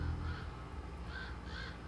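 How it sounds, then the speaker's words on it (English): Crows caw a few times at a moderate distance outdoors, the calls coming in short bursts over a low steady rumble, with no one speaking. "here comes the birds."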